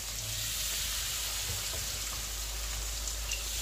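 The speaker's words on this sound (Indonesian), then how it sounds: "Ini yang aku gorengnya kayak kacang." Peanuts frying in oil for Indonesian peyek, a steady, close, even sizzle with faint crackles throughout and no talking.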